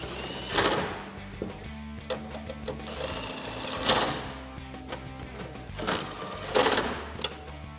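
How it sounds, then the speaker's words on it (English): Ratcheting of a 10mm socket tightening factory tail light bolts on a 2016-2020 Toyota Tacoma, a close rapid clicking run that comes in several short bursts with brief pauses between them. "then we can tighten those up with our 10mm socket"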